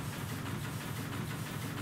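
Ship engines run at full speed in the physics game Floating Sandbox, a faint, steady low mechanical drone with a rough, even texture and no voices.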